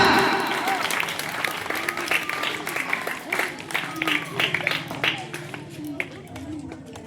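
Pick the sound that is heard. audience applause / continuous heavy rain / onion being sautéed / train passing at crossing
audience applause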